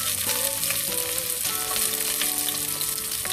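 Chopped ginger, green chilies, garlic and onion sizzle steadily in hot oil, with a few clinks and scrapes of a spoon stirring the pan close by, frying continuous and fairly loud throughout.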